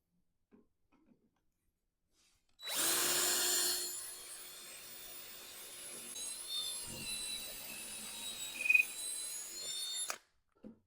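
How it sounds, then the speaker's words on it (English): A cordless drill bores a hole into cherry wood, starting with a loud burst of motor whine and bit bite, then settling into a steady grinding drone for several seconds before stopping; no one speaks. "So let's drill a hole."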